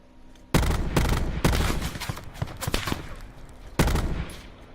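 Rapid bursts of video game gunfire laying down cover fire during a squad firefight, loud sharp volleys starting abruptly, several separate bursts with brief pauses, close and dominating the mix.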